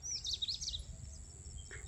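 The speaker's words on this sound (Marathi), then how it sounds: "पक्ष्यांचा आवाज येतोय" Small birds chirp and tweet in a village garden on a morning, a quick burst of high calls up front followed by fainter distant chirps over a low rural hum.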